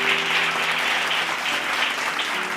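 Audience applause at a Bible study gathering, a steady, dense clatter of many hands clapping together without a break, fairly loud and even throughout.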